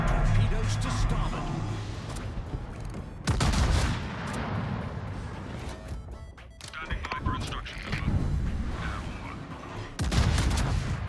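Heavy naval guns fire at a submarine during a World of Warships battle, with several loud booming salvos breaking out at intervals amid continuous rumbling battle noise, while someone talks over the action.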